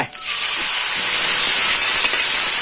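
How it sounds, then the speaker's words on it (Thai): Canned fish dropped into a hot pan for Thai stir-fried basil fish, giving a sudden loud, steady sizzling hiss that holds close and unbroken without talk. "ปลากระป๋องใส่ลงไป"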